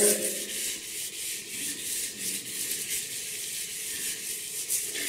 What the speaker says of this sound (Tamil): இப்போ நான் வந்து இந்த இடத்த நான் வந்து இப்போ ஸ்க்ரப் பண்ண போறேன்.